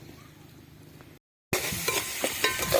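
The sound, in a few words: chili tempering sizzling in hot oil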